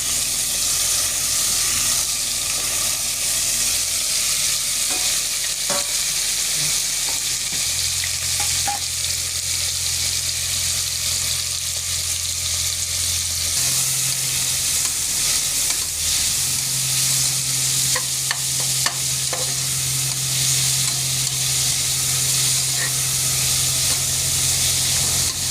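Onion, tomato and crushed ginger-garlic sautéing in oil for vada curry, a steady dense sizzle with occasional stirring clicks throughout, loud and close, no talking.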